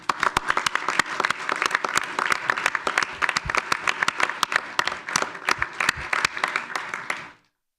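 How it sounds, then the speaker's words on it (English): A village board meeting audience gives a round of applause, steady close clapping from a modest group lasting several seconds before stopping abruptly. "One more round of applause."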